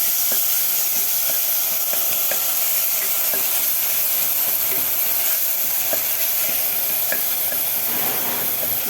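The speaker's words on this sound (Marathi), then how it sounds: "अर्धा कांदा आहे थोडासा किसून घेतलेला आहे ते आपण टाकूया" Half a grated onion drops into a hot pan and sizzles steadily, a loud, close, continuous frying hiss with faint crackles throughout.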